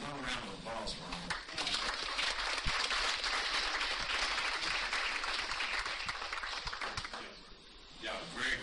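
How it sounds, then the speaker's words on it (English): A crowd applauds steadily with dense, sustained clapping that holds loud for several seconds, then thins briefly before swelling again near the end. "Another round of applause for them."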